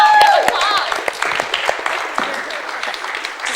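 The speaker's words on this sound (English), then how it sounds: "Now, I do think Goethe deserves a big round of applause." Audience applauding after a talk, with a voice at the start, then a smaller room of separate, distinct hand claps that fade and thin out over a few seconds.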